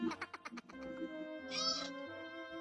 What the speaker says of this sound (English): It goes meow.